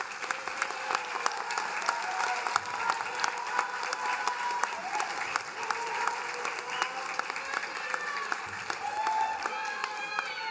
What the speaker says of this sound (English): Graduates, I think we all owe them a round of applause.